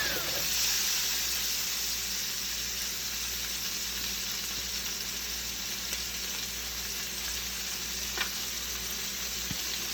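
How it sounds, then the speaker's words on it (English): A roasted chicken pan sizzles steadily as wine deglazes it, a continuous close frying hiss with faint bubbling and no talk. "We're going to deglaze with some wine."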